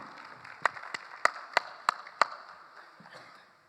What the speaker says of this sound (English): You can applaud him.